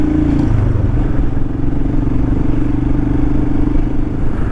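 A crowd of motorcycles idles and rumbles close by at a dam, making a loud, continuous low engine drone with some clatter and no clear talk.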